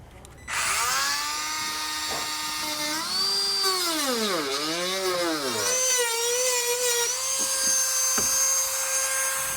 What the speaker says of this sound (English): So after we trimmed that plastic behind our grill